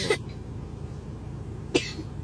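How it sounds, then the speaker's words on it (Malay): Two short, sharp coughs close by, separated by more than a second of quiet background. "Batuk."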